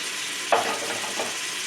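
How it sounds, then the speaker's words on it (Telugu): A spoon stirs ginger paste, yogurt and chili masala in a pan while they fry, giving a soft, steady sizzle with one brief scrape and a fainter second one. "ఇవన్నీ వేసుకొని మొత్తం ఇలా కలుపుకోవాలండి"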